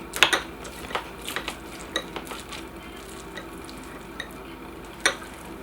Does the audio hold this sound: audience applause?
no